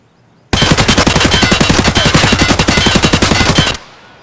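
A submachine gun in Escape from Tarkov fires one long, loud, unbroken full-auto burst of rapid, evenly spaced shots lasting about three seconds. It starts sharply out of near silence and stops cleanly, leaving a brief fading tail.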